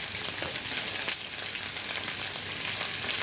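Squash sizzles steadily in hot oil, a dense continuous crackle with no pauses, close and fairly loud throughout.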